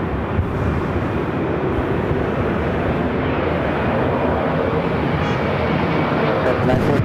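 A Delta airliner rolling for takeoff on runway 24 left at LAX, a steady loud jet rumble and roar filling the scene without letup.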